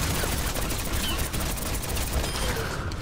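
Tower turret gunfire in the video game Overwatch, a loud, unbroken rapid fusillade of shots filling the entire stretch, dense and close with mechanical clatter and no pauses.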